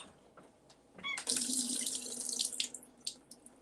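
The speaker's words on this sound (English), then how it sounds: "Just draining out that water that we don't need." Water runs from a kitchen sink tap into the basin, starting with a few drips and clinks, then a steady close rush for a couple of seconds that trails off into splashes, with no talking.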